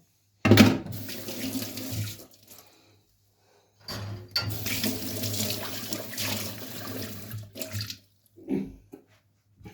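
Hands washed under a running kitchen tap, with water gushing in two main bursts separated by a pause and a few brief splashes toward the end. The sound is close and loud and there is no talking.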